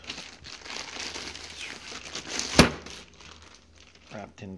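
Plastic wrapping around a Hornady Rapid Safe shotgun wall lock crinkles and rustles close by in bursts while it is unpacked, with one sharp crackling peak and a brief voice at the end.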